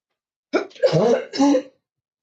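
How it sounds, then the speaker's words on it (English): Coughing and throat clearing in a few rough bursts, close and fairly loud, with no talking. "I'm coughing a lot."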